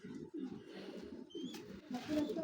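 Pigeons coo in repeated low, throaty pulses near a big female Hammer pigeon, the murmuring rising and falling in close bursts with a couple of brief higher calls.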